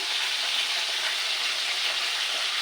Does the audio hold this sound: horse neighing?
no